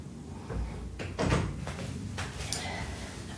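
An indoor door being opened to let a cat outside, with a soft handle clunk and a brief scraping swing, quiet and close in a still room.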